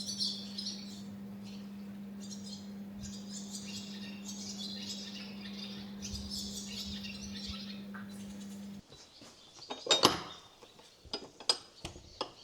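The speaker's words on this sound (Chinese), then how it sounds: "鸟叫声很大声，我是被鸟叫声吵醒的" Loud morning birdsong outside a Hakka earthen tulou in Yongding, Fujian: dense, overlapping chirps and calls fill most of the clip over a steady low hum, then give way to scattered clinks and bumps.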